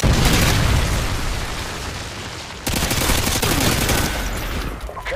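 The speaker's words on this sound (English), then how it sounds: "Friendly Predator missile inbound." A Predator missile blast in Modern Warfare 2 on a trailer park map, a loud sustained explosive roar and rumble with a second heavy impact midway, dense and close.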